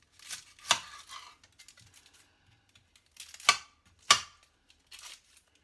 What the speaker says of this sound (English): I'm going to cut my onion